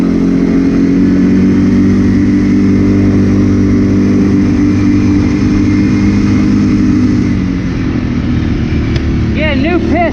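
Rebuilt 2006 Arctic Cat 400 ATV engine with a new piston and rings running in high gear, a loud steady droning hum held close and even, easing slightly near the end.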